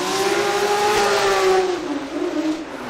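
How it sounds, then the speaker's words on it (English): Ken Gushi's Toyota GR Supra drift car screams at high revs through a sustained, loud engine wail. The pitch wavers and dips slightly as the car runs hard, with no talk over it. "the Ready Toyota Gazoo Racing Supra goes hard on the wall"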